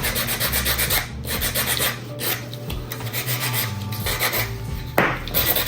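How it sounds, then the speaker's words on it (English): Leftover acrylic on a fingernail is filed down with steady, close rasping strokes that scrape back and forth without a break. "Sometimes you'll have some leftover acrylic, so we want to make sure we just file that."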